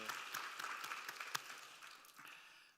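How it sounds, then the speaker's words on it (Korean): A church congregation applauds, a fairly faint and distant wash of clapping that carries on steadily and then fades toward the end, with no voices over it. "우리 어머님들에게 힘찬 격려와 감사의 박수 보내드릴까요?"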